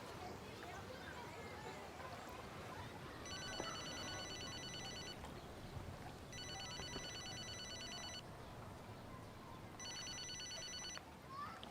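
A telephone rings in repeated bursts, three electronic trills spaced a few seconds apart, moderately loud over constant background noise and voices in a comedy scene set in Benidorm.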